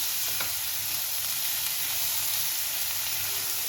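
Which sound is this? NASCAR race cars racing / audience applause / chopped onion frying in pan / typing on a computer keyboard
chopped onion frying in pan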